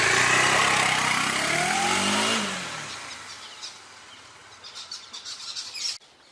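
Bajaj Dominar 400 motorcycle pulling away, its engine note loud and rising for a couple of seconds before fading into the distance, leaving faint outdoor ambience and a few soft sounds.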